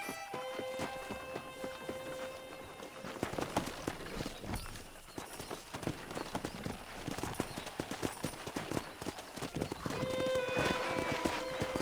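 Hooves clip-clop rapidly as horses gallop past while being wrangled in a video game, with occasional whinnies and a faint musical tone in the background.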